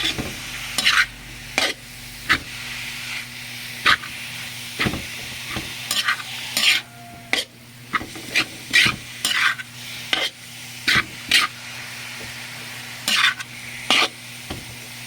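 Meat-laden pasta sauce for baked macaroni cooks in a pan with a low steady sizzle, broken by repeated sharp scraping strokes of a spoon stirring at irregular intervals, under a faint background hum.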